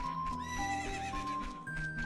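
A horse neighs loudly and whinnies in Zelda: Ocarina of Time, a bright drawn-out call with hoof clip-clops beneath, set over steady game background music with no talking.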